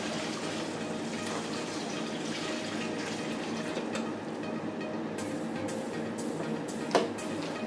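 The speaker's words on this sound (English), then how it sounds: "We have our hot water that we're just also going to pour." Hot water pours steadily into a bucket of shredded newspaper confetti, a close, continuous splashing fill with a few drips and a small knock near the end.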